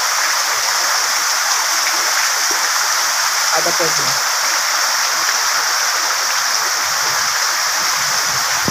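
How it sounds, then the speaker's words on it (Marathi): Heavy monsoon rain pours down in a dense, loud, unbroken roar throughout, with a voice briefly speaking beneath it. "लय खतरनाक मोठाच पाऊस आला"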